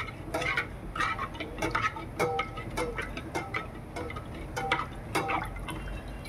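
A spoon stirs a thick horse gram (ulava) kattu in a pot, making soft, repeated wet scrapes and knocks in an uneven rhythm, close and moderately quiet, with no talk.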